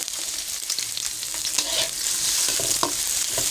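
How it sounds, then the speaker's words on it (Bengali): Chopped onion and garlic fry loudly in hot oil, with a continuous sizzle and repeated scraping and clattering of stirring close by. "তেলটা একটু গরম হলে তার মধ্যে দিয়ে দেব পেঁয়াজ আর রসুন কুচি। দেওয়ার পরে এটাকে নাড়াচাড়া দিতে হবে"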